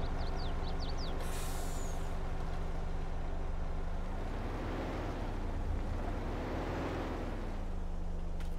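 A truck in Farming Simulator 22 gives a sharp hiss from its air brake near the start, then a steady low engine drone that rises and falls. The sound is loud and continuous, with no talking.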